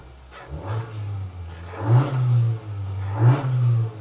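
A 2019 Honda Accord 1.5 Turbo engine revs in sport mode in three rising surges, a deep rumble swelling and falling back to idle between bursts, close and loud with no talking.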